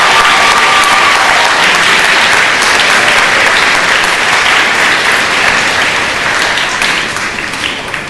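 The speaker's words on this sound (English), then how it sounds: "Please give a big applause for doing that." Sustained, loud audience applause fills a school gymnasium or hall during an elementary fifth-grade completion ceremony, steady dense clapping that tapers slightly near the end.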